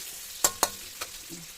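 Onion and pork sautéing in a pan for pancit bihon, a few sharp stirring scrapes and sizzling bursts over a low background hiss, close by with no voices.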